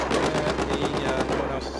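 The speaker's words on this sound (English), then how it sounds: "I'm taking heavy fire." Rapid automatic machine gun fire in a Battlefield 4 Conquest match, a sustained close burst of evenly spaced shots running the full length with a heavy low rumble underneath.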